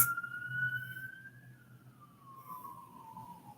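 An emergency vehicle siren wails with a single long tone that slowly rises, then falls, carrying clearly over low rumbling traffic noise.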